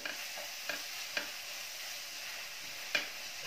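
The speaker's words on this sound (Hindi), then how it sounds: "अब इन सबको अच्छे से मिक्स कर लेंगे।" Coriander, cumin and turmeric powders get stirred in a pan for Hyderabadi mirchi ka salan, with a quiet hiss and a few soft, sparse scrapes of the spoon.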